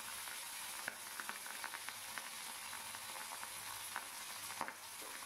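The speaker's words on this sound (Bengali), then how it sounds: "এবারে কড়াইতে সর্ষের তেল গরম করে পাবদা মাছগুলোকে ভেজে নেব।" Pabda fish fry in hot mustard oil in a wok, giving a steady soft sizzle with scattered faint pops and crackles, quiet and continuous with no voices.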